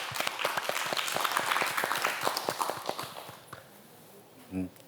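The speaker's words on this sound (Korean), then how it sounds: "큰 박수로 청해 듣겠습니다" A studio audience on a Korean morning TV talk show claps briskly for about three seconds, the applause thinning and fading out before a brief voice is heard at the end.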